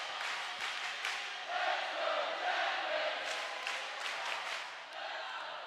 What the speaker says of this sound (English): Crowd trying to urge on the Jackets.